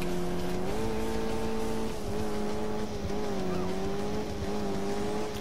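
A car accelerates away in Alarm für Cobra 11, engine droning loudly and steadily with rising and falling pitch shifts as it changes gear, a continuous roar with no pause.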